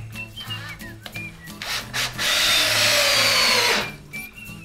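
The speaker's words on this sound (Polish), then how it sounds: "Tu, gdzie mieliśmy garb, wkręcamy pierwszego wkręta." A power drill drives a screw into a wall during work on uneven walls, with short rubbing and handling noises followed by a sustained whirring run of about two seconds, close and loud.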